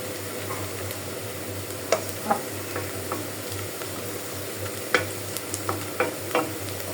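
Onion, garlic and four or five dried chillies frying in oil for a dal tempering, a steady soft sizzle with a low hum beneath and a few sharp scraping stirs scattered throughout, close and quiet.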